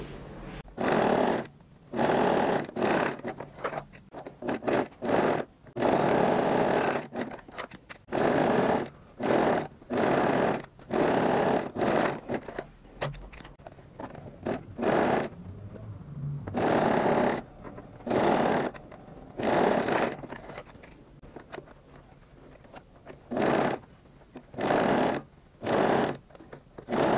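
A sewing machine runs stitch seams on cotton knit panties in repeated close bursts of steady, rapid mechanical whirring, each lasting a second or two and separated by short pauses, loud with no talking.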